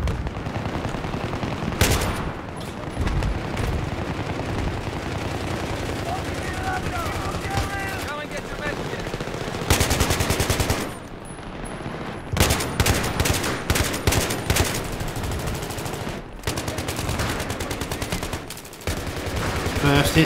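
Repeated bursts of AK-74M rifle fire in Battlefield 3, short volleys and rapid cracks recurring throughout over dense battle ambience, with some speech mixed in.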